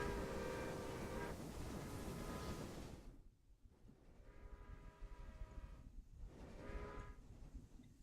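Trains rolling along a looped track in the railway management game Railway Empire, a steady rumbling rail drone with passing surges and faint horn-like tonal bands, continuous and fairly loud with no talking.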